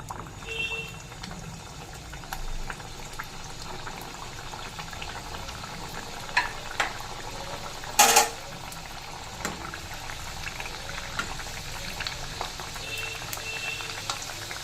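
Nimki dough pieces deep-frying in refined oil over a low to medium flame, a steady close bubbling boil with faint crackles and one brief louder clatter midway, no talking.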